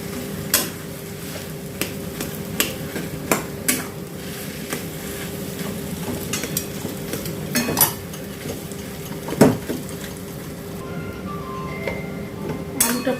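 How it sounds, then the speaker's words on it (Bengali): A spoon stirs boiled potato into an onion mixture in a pan, repeated scraping clinks against the metal at an irregular rhythm over a faint steady sizzle, close and moderately loud. "আলুর সাথে পেঁয়াজ মাখাটা ভালো করে মেশাতে হবে।"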